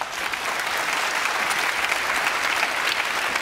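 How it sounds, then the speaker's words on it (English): Audience applause at a debate event, a dense, steady wash of many hands clapping that stays loud and even throughout with no voices over it. "Let's give these men a round of applause."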